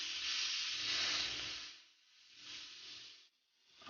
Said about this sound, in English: I'm just gonna sear it on each side for 2 to 3 minutes